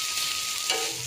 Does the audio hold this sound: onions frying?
yes